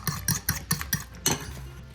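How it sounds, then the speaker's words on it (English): A fork or small whisk beats one large raw egg in a bowl, giving six quick, regular clinking strokes against the bowl, close and fairly loud, before a brief quiet pause. "now we're going to thoroughly beat this with a fork or with a small whisk"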